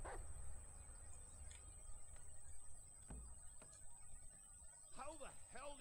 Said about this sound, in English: I swear that dog doesn't shut up.